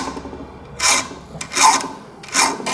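A hand saw's teeth are sharpened with a file, three rasping forward strokes with pauses between them, close and fairly loud, with no talking.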